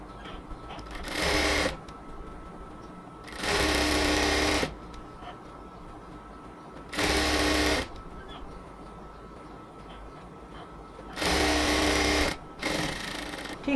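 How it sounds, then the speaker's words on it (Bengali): A sewing machine runs along the border of a cotton palazzo in four short, loud whirring bursts, with quieter stretches of faint room noise between them. "এবার হচ্ছে আমরা নিচ থেকে বর্ডারটাকে সেলাই করব"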